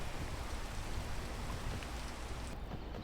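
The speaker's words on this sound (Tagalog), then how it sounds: "Umuulan." Steady rainfall in the video game Peak, a dense, even hiss of falling drops that stays constant throughout with no voices.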